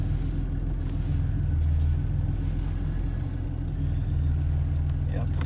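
A Pontiac Fiero fitted with a swapped Buick 3800 V6 idles after a misfire repair, a steady low rumble close by that carries on throughout, with no talk over it.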